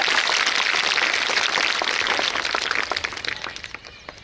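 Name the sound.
schoolchildren clapping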